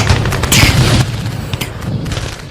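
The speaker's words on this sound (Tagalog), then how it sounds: "Putok nyo baril nyo." Gunfire sound effects from a radio drama battle scene in a Philippine revolution story, a dense rattle of close, loud shots and booms crackling continuously throughout.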